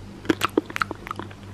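Someone bites and chews a peanut butter chocolate truffle, giving a quick series of close, crisp crunches and wet chewing clicks.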